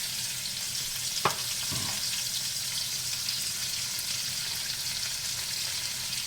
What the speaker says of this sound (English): So in the same residual oil, we'll add onions.